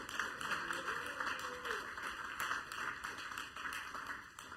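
Congregation clapping at the close of a Sunday church service, a steady wash of many hands heard faintly through a thin, tonal-sounding recording, with no voices over it.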